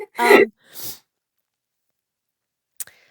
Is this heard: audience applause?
no